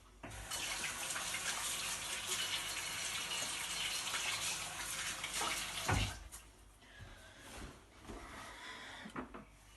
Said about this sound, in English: you need to give your hands a good wash